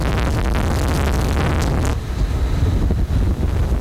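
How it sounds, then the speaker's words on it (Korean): Strong wind roars across the sea off the west coast aboard a crab fishing boat, buffeting the microphone with loud, steady gusts and surging waves, no voices. "바람이 큰 소리를 내며 파도를 일으키고 있다."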